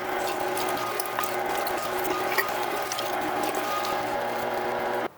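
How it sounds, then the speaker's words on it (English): A meat grinder steadily grinds fire-roasted jalapeño sausage meat, a continuous close mechanical churning and whirring with faint ratcheting, running alone without pause until it stops abruptly at the end. "So let's get back to grinding."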